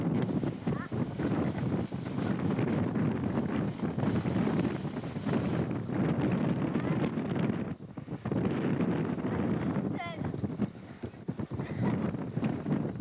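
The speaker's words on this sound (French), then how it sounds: "le vent le tire." Strong coastal wind buffets the microphone as a paraglider attempts a take-off at Pyla in 1998, a loud continuous roar with gusty swells and a brief lull, while a voice is faintly audible beneath it.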